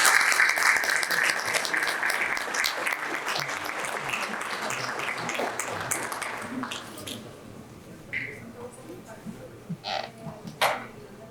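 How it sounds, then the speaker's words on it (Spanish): Strong applause from an audience at an electricity-sector conference welcoming a speaker, loud and dense at first, then thinning into scattered claps and fading, with a voice coming in near the end. "Recibamos, por favor, con un fuerte aplauso"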